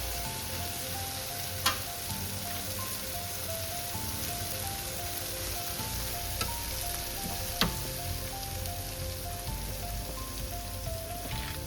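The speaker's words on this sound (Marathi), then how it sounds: "मसाला पूर्णप्रमाणे शिजला आहे आणि तेल बघा कसं सुटते" Clam masala fries in oil that has separated from the spice paste, giving a steady, dense sizzle with a faint hum underneath and a few sharp ticks, with no voices.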